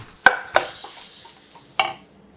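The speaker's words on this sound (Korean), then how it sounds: "골고루 볶아주세요" Three sharp metallic clacks of a utensil against a pan, spaced irregularly, with a soft sizzling wash between them, as shishito peppers are stir-fried.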